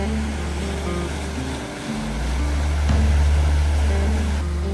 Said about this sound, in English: Full-on waterfall coming down my stairs that I made.